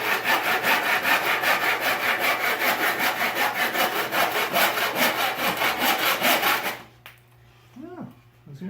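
Hand saw with coarse, few-teeth-per-inch blade, likely dull, cutting through wood in quick, even back-and-forth strokes for about seven seconds, close and loud, before stopping abruptly.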